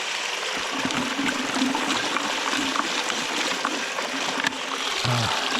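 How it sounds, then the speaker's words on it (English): Water poured from a container into a gold panning tub, a steady trickling and splashing that runs throughout, close and fairly loud with no talk. "A bit more water."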